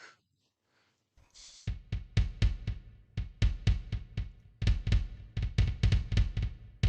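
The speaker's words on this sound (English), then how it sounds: "play what it sounds like to hear mom's heartbeat and your heartbeat, which is the top two." Two layered heartbeat sounds, a mother's and a baby's, play together as music in a 3D music game, giving steady repeated low thumps in an uneven overlapping rhythm after a brief quiet start.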